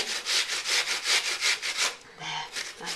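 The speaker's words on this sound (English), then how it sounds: "with a box grater, just coarsely grate the apple into your bowl" An apple coarsely grated on a box grater into a bowl gives a close, rhythmic rasping scrape, about nine quick strokes, then a brief pause before one more.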